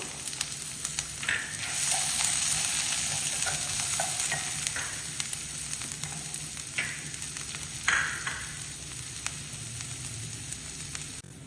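Onions and garlic sautéing in a pan for sambar, a steady sizzle with scraping stir strokes throughout, close and moderately loud with no talk.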